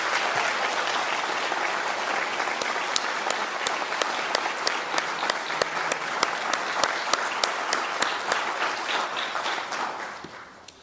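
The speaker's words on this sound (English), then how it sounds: "Round of applause for Alex Burpee." At a school honor society induction, the audience gives sustained applause to an award winner, a broad steady roar of clapping with distinct sharp claps popping out near the front before it fades away at the end.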